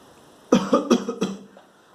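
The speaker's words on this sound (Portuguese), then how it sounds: "Você sabe como acontece a tosse?" A series of four sharp human coughs in quick succession, close and distinct against a quiet background, fading out afterward.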